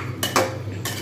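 Potatoes and papaya are added to a pan of mutton curry, giving three brief clattering knocks of pieces and a utensil against the metal pan over a steady low hum, with no talking.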